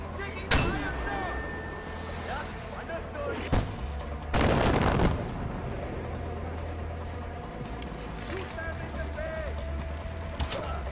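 Mortar and gunfire blasts in the Far Cry 4 video game, a few sharp booms and one longer heavy burst scattered over a continuous game soundscape, with voices talking at times.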